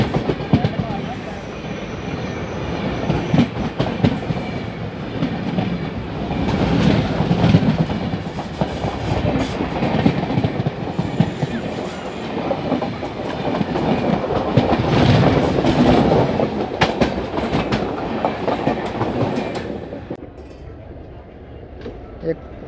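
A Malwa Superfast Express train passes close by, seen from an Intercity Express on the Delhi–Fazilka route, with steady loud rumble and clickety-clack of wheels on rail running about twenty seconds before the sound drops away.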